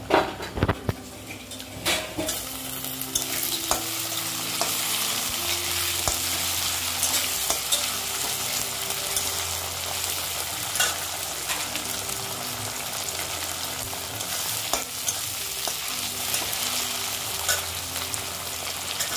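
Curry leaves frying in hot oil for sambar dal give a steady, close sizzle that runs throughout, with occasional stirring scrapes in the pan.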